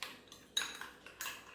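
A spoon clinks and scrapes against a bowl while stirring mashed banana with milk: a few quick, soft, close taps in an irregular rhythm.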